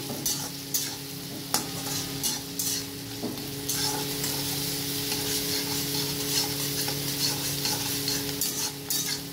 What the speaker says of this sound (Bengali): এগুলোকে ভালো করে ভেজে নেব। তেজপাতাও দিয়ে দিচ্ছি।